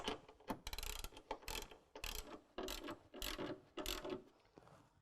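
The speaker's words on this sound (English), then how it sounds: "tighten it down with a 13mm" A ratchet with a 13mm socket tightens a bolt while a step bar is fitted to a 2019 Dodge Ram 1500, giving about eight quick rhythmic bursts of close clicking with short pauses between them.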